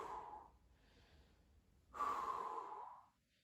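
Breathing during a glute activation exercise: two close, audible breaths, a softer one, then after a pause a louder, longer exhale, alone with no talk.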